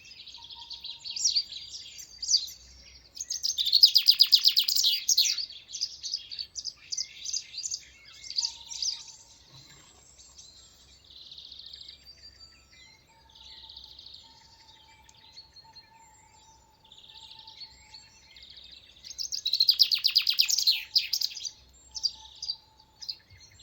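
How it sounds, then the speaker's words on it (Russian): Field sparrows and other small birds sing and chirp at a rural farmstead, in bright bursts of twittering that rise and fall over about twenty seconds, with quieter gaps between and faint insect-like background. "А сейчас давайте послушаем, кто поет на хуторе в это время,"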